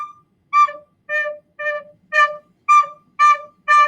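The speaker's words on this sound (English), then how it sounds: "what they're doing is they're using their throat to make the note separate" A recorder plays seven short, evenly spaced notes, each one cut off by the throat rather than the tongue, giving choppy, slightly pushed attacks with clear gaps between them. The notes are close and clean.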